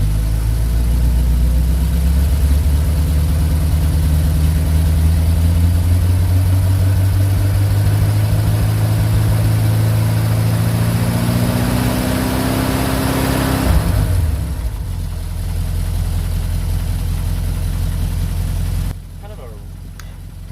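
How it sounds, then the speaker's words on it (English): A classic car with a 6-volt charging system idles steadily, then its engine note climbs as it revs up, holds high for several seconds, and falls away before cutting down to a lower hum near the end. "we're going to rev it up here and see what it goes to"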